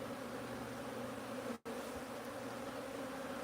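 A swarm of bees buzzes around a hive box at a bee sanctuary, a dense steady hum close by, broken once by a split-second dropout.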